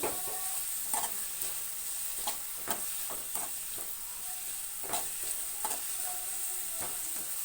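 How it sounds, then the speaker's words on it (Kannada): Onions frying in a pan for a sprouted mung bean curry, a steady close sizzle with repeated clinks and scrapes of a spoon stirring throughout, no voices. "ಈರುಳ್ಳಿ ಸ್ವಲ್ಪ ಚೆನ್ನಾಗಿ ಫ್ರೈ ಆಗೋವರೆಗೂ ಫ್ರೈ ಮಾಡ್ಕೋತಾನೆ ಇರಬೇಕು"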